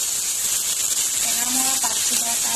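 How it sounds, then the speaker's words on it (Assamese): Fish frying in a pan on a gas stove, a steady close hiss and sizzle running throughout with faint spattering crackles, under quiet background sounds. "বঢ়াই দি পিনে এইদৰে মই মাছকেইটা ভাজি লওঁ"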